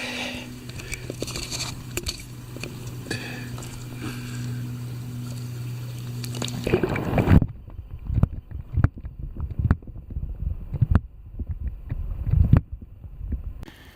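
A waterproof camera plunges into creek water on a cold day: a steady rushing flow gives way to muffled underwater gurgles, knocks and bubbling thumps close to the microphone.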